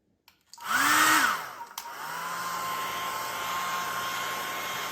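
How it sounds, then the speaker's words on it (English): A hair dryer heating grip tape switches on with a loud rising whir and rushing air, drops briefly, then keeps blowing steadily at a lower, even hum. "I'll heat the tape a little bit with a blow dryer."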